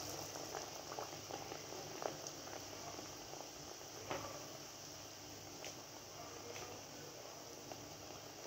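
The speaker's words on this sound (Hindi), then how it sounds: "असी आलू के पकौड़े करते हैं फ्राई।" Potato pakoras seasoned with black salt fry in hot oil, giving a soft, steady bubbling sizzle scattered with faint pops, quiet and unbroken throughout.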